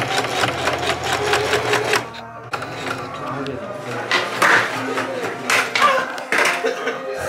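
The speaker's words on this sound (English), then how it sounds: "I can sew them up right now." Sewing machine stitching in bursts of rapid mechanical whirring, loud and close, with brief pauses and shifts in speed, set in a busy shop with occasional clatter in the background.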